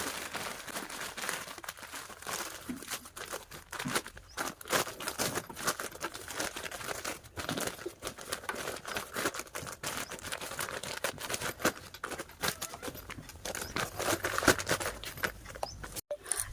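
Fabric handbag being handled as its zipper is opened and the bag is turned right side out, giving close, soft crinkling and rustling with scattered light clicks and pats throughout, no voices.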